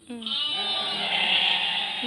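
A sheep on a farm bleats once, loud and close, a wavering nasal cry that opens sharply and then trails off into a sustained bleat.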